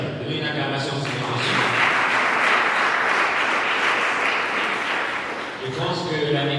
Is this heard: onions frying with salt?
no